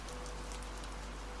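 Rain falls outside onto a cobbled street at night, a soft, even, continuous hiss of drops with no distinct rhythm and no talking.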